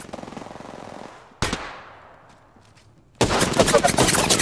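Bursts of automatic gunfire in a PC shooter, a sustained burst that cuts off, a sharp shot with a ringing decay, then a loud dense rattle of fire, close and forceful.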